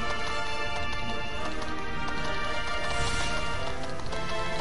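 Horse hooves gallop in Dragon Quest XI, a dense, steady clip-clop rhythm blended with a continuous wash of game music and ambience, no talking heard.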